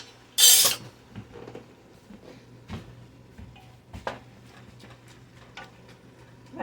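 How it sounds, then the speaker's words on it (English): A metal utensil breaks up meat in a pot for a three-meat spaghetti sauce: one loud, sharp scrape, followed by scattered lighter clinks and knocks against the pot. "I'm noisy with my pot because I'm using metal on it"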